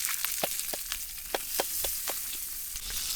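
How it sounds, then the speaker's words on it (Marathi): Fish frying in very hot oil over a wood-fired village stove, a steady loud sizzle broken by sharp crackling pops every half second or so. "मासे टाकले तेलामध्ये फ्राय करायला. तेल एकदम गरम झालंय."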